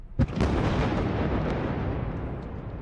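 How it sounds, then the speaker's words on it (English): A single massive booming blast of a large firework shell fired in a quarry, with a sharp crack at the start, followed by a long roaring rumble that slowly fades. "There was an horrific explosion."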